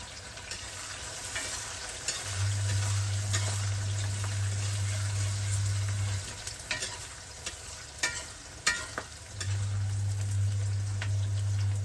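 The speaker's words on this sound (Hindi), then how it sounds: "अभी मैं करूँगी ये ऑनियन को पहले फ्राई" Onions fry in hot oil during village-style cooking in Manipur, with a continuous close sizzle. Occasional stirring clinks and scrapes sound over a low, steady hum that comes and goes.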